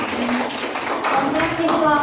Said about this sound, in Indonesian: Tepuk tangan lagi untuk kelompok A.